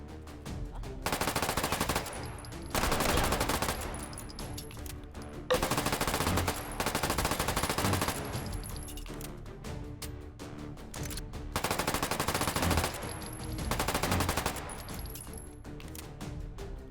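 An AEK rifle firing in the H3VR virtual reality game, loud sustained automatic bursts of a second or two each, repeating with short gaps throughout.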